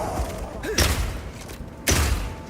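Two heavy thumping crossbow shots a second apart, each a sharp percussive burst, fired from a burst-shot crossbow loaded with armor-piercing ammo in Path of Exile 2.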